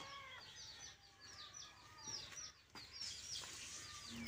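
Chicks cheeping repeatedly in high, bright chirps close by, in a setting where a captured black-headed royal snake is being fed chicks, with scattered clucking-like calls over a steady background hiss.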